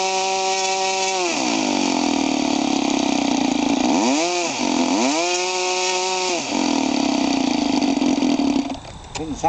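A brand-new OS Wankel rotary model engine runs at a loud, buzzy high-pitched whine, dipping and revving unevenly at idle before sputtering near the end, very close.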